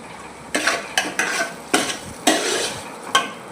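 Poha upma with potatoes and onions is stirred in a frying pan, the spoon scraping the pan in about seven distinct strokes over a soft background sizzle, with no talking.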